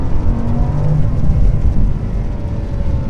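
An Audi R8 V10 Plus supercar, driven in the rain, gives a loud, steady low engine rumble and whir as it pulls under acceleration, heard from inside the cabin without talk.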